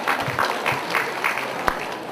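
Audience at an Indonesian financial planning expo applauding, a moderate spread of clapping with a few sharper individual claps, fairly close.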